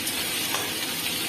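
Homemade garlic and ginger paste frying in hot oil, a dense, continuous close sizzle with no pauses.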